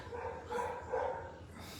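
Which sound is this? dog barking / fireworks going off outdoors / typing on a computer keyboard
dog barking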